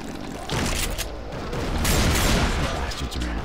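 Heavy, dense gunfire and booms from Left 4 Dead 2 roar continuously at close range, swelling louder in the middle, with raised voices mixed in.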